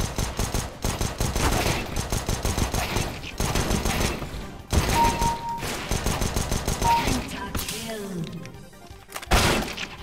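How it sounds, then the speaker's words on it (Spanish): Gunfire in Counter-Strike: Global Offensive with shotgun blasts among a steady run of sharp broadband shots, several bursts crowding the clip with brief gaps and a louder final pair, while voices talk underneath. "Mirá, desde acá te tiro con la escopeta"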